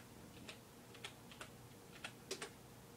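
Quiet tapping on a computer keyboard while a password is entered: a handful of soft, irregular keystrokes over a few seconds, close but faint, with no voice.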